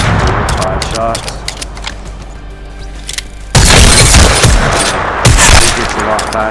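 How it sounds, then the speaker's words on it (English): Rapid gunfire from Apex Legends gameplay, loud bursts of shots in quick succession, with a denser, louder volley in the second half. "It gets a lot faster taking three rapid shots instead of 2 charge shots."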